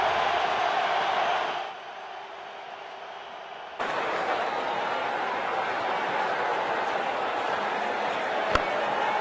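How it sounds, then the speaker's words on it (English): Stadium crowd in the cricket video game World Cricket Champions during an India versus South Africa T20 match, a broad continuous roar that dips quieter briefly then swells back loud and sustained, with a sharp knock near the end. "The crowd has gone mad."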